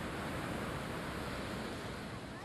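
A river waterfall above a dam in Brazil gives a steady, loud broadband roar of rushing water that stays even from start to finish, with no voices.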